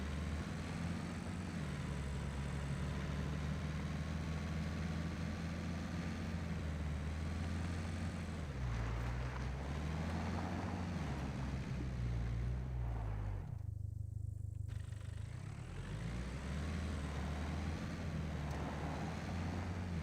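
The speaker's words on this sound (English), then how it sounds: "I hear in the background, like, the dropship engine humming sound, like it's just above us" A steady low engine hum from a dropship passing overhead in the video game SCUM, continuous and droning, with a brief dip in the middle before it resumes unchanged.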